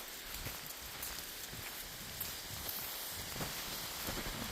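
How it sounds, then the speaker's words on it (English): Steady rain falls on wet ground and brush during damp, showery weather, a close, continuous hiss of drops with no voices. "it's been kind of rainy weather on off all day"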